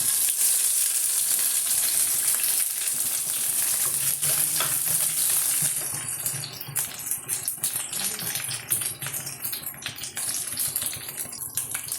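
Mustard seeds, grated coconut and curry leaves fry in hot oil for an aloe vera curry, a loud sizzling hiss that settles into softer crackling and popping with occasional stirring.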